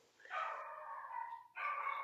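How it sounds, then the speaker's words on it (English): A dog barking and whining in the background, drawn-out high-pitched yelping cries with a brief break before a second sustained whine, moderately loud and with no talk over it. "Talking about the dog barking in the background."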